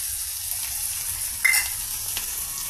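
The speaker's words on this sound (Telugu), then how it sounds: "ఇక మీడియం ఫ్లేమ్ మీద ఆయిల్తో పెద్దల్లిపాయ పీసెస్, పచ్చిమిర్చి, టమాటా, ఉప్పు, పసుపు, భెండి పీసెస్ ఈ విధంగా ఫ్రై అవుతున్నాయండి" Okra pieces with onion, green chilli, tomato, salt and turmeric frying in oil over medium flame, a steady close hiss with a couple of brief stirring clicks.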